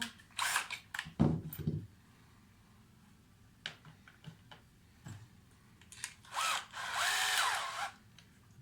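A power driver runs T15 screws back into a Camaro during a headlight LED install, giving several short whirring bursts separated by quiet gaps and small clicks, with a longer final burst near the end.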